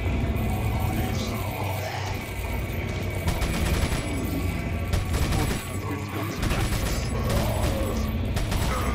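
Gunfire in Resident Evil 4, dense bursts of shots and mechanical clatter running steadily throughout, with a voice speaking briefly underneath.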